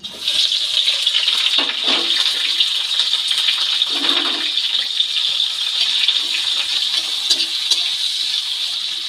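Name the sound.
green chilli, garlic and onion frying in oil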